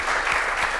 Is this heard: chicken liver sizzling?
no